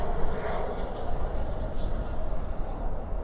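An American Airlines plane landing at night at Dallas Fort Worth, with spoilers up and thrust reversers out, gives a rough, swelling roar of reverse thrust, fairly near, with a person talking over it.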